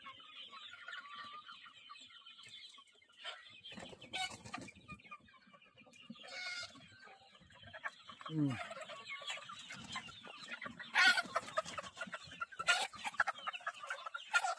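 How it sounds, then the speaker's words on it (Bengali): A flock of Sonali chickens on a poultry farm clucks in scattered bursts while feeding, some calls louder and sharper, close by amid quieter gaps. "সব খাওয়াই ব্যস্ত মুরগিগুলো"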